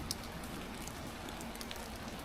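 Steady rain patters continuously on a surface, a soft even hiss with scattered drips throughout, fairly quiet and without any voices.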